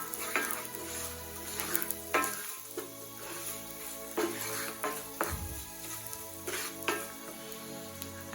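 Cumin seeds and asafoetida sizzle in hot oil in a pan while preparing a Rajasthani dal, a continuous crackling fry broken by several sharp spoon scrapes and stirring knocks, with no talking.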